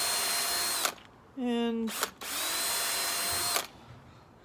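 A power drill bores holes into a sculpted baseball glove trophy in short bursts: a loud whirring run, a brief pitch-rising spin-up, then another long run, with a quiet voice between bursts.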